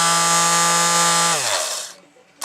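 A power sander fitted with fairly rough sandpaper whirs with a steady, high electric whine, then powers off and spins down to quiet.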